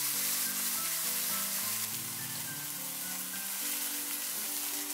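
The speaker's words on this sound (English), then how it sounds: "Grill for 2 minutes per side. Then another 1 minute per side." Beef steak grilling medium rare for a Thai crying tiger dish gives off a steady, even sizzle that lasts throughout, with soft melodic background music over it.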